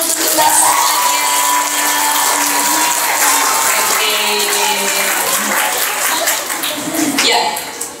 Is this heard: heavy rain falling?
no